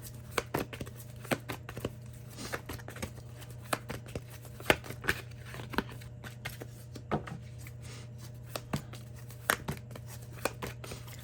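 Tarot cards are shuffled over and over, a soft, steady riffle of crisp snaps and flicks against a constant low hum, with no one speaking.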